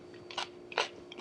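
Three sharp, close crunches as someone bites into a crisp refrigerator pickle made without salt, spaced about evenly apart over a quiet background.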